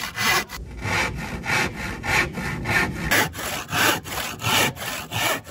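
A handsaw cuts through wood panels that are clamped together for an arcade cabinet build, a close, steady back-and-forth rasp of about a dozen strokes with a short break partway through.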